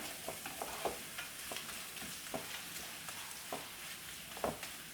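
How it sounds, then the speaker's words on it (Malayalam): Onions sauté with ginger garlic paste in a pan for chicken majboos, a quiet continuous sizzle with regular light scrapes and taps of a spatula stirring every second or so. "ഇനി എല്ലാം കൂടെ വീണ്ടും ഒന്ന് നന്നായിട്ടൊന്ന് വഴന്നു വരട്ടെ"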